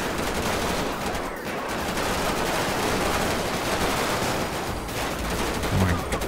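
Dense rattling gunfire in GTA 5 with the LSPDFR police mod during a SWAT shootout, sustained automatic bursts filling the scene loud and close, with little break.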